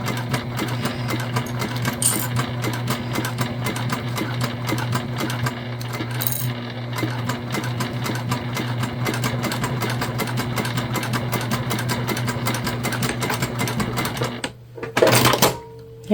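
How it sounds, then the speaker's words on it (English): Juki sewing machine stitching through layers of vinyl for a bag, a fast steady mechanical chatter of the needle running continuously, then stopping with a few clunks near the end. "Okay, so that's stitched together."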